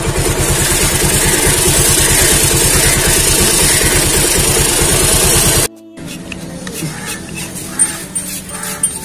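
A Bajaj Pulsar 220F engine runs loud and steady in gear on a stand with the rear wheel spinning, a fast even throb for about six seconds before cutting to quieter background noise.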